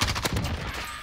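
A quick burst of M4A1 fire in Call of Duty Warzone on Rebirth Island, several close, loud shots in fast succession before the sound tails off.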